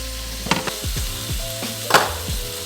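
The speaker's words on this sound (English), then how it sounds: "we're gonna add some garlic into that butter" Garlic sizzles in melted butter in a pan, a steady close frying hiss broken by a few clinks and scrapes of a utensil stirring, with no one talking.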